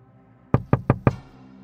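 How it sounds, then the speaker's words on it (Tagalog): Four firm knocks on a door, evenly spaced in quick succession, loud and close against a quiet room. "Maya-maya pa, ang kaluskus ay naging katok."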